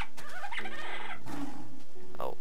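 Chicken clucking in the Minecraft video game, a few short close clucks and squawks over about two seconds with no talk.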